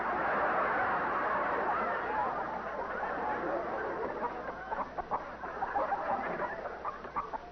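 Chirping cheeps like a baby chicken playing from a phonograph record, a steady busy layer of peeping and clucking that turns choppier and more broken toward the end, with no talk over it.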